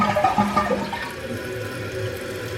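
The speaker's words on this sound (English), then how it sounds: "Even after a good flush" A toilet flushes with a cleaning pod sitting in the tank, a loud close rush of water that gurgles and drains, then settles into a quieter steady refill hiss.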